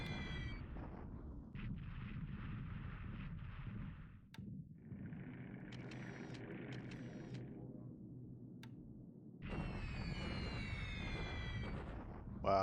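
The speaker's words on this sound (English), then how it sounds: "Pretty devastating bomb hits there." Heavy bomb blasts and rumbling detonations in the WWII strategy game War in the Pacific, set in June 1943, come as long, roaring bursts of broadband noise separated by brief lulls and ticking sounds.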